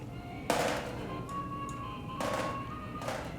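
A few soft, dull thuds of a top-heavy teddy bear toy toppling over in the video game SOMA, three knocks spread apart over a faint background hum.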